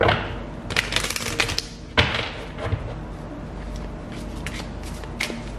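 Tarot cards are shuffled by hand in a run of crisp, papery riffles and taps, close and fairly loud, with a few sharper slaps among softer flicking.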